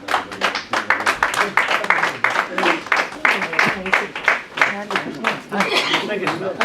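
An audience at a book presentation claps, a steady patter of hand claps from a small group, fairly close and sustained, with a voice speaking over it.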